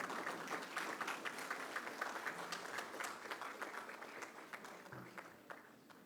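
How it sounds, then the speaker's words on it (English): An audience applauds Nagaratna Didi at a university welcome event, a dense, even patter of many hands clapping at moderate distance, fading slightly toward the end. "Big round of applause to Didi."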